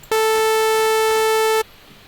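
A bright, buzzy synthesizer sawtooth tone holds loud and steady for about a second and a half, starting and stopping abruptly with quiet on either side.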